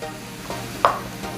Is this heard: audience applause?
no